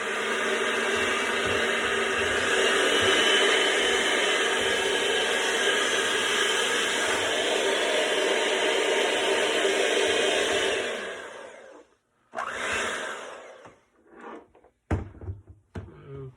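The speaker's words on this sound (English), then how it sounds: "We'll stir it up a little bit with the beater." Strawberry rhubarb mead must stirred with a beater: a steady, loud whirring rush that runs unbroken for about eleven seconds, then cuts out, followed by a few scattered clunks and handling knocks.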